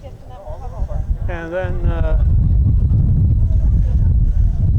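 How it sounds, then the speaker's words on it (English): Strong wind roars across the microphone in a loud, steady low rumble that builds and holds, with a brief voice early on, outdoors at a softball game on a very windy day of about 50 degrees. "Can't believe it, the wind's blowing."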